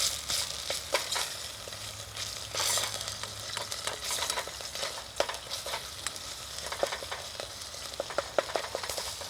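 Thai green curry paste frying in a pan, a steady close sizzle and crackle with scattered pops and occasional stirring scrapes, no talking.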